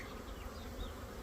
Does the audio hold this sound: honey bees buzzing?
yes